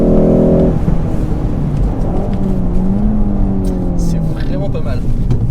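A 2019 Ford Focus ST pulls hard on a race track, its engine note rising through the gears as a loud, continuous in-cabin drone, with a person talking over it.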